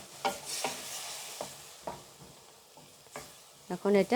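Hilsa fish heads are sautéed with turmeric and spices in a pan, with a soft sizzle and intermittent stirring scrapes and clinks. A voice speaks briefly.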